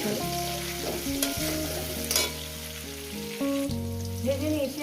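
Pieces of rohu fish fry in hot oil, a steady sizzling hiss running continuously beneath prominent background music.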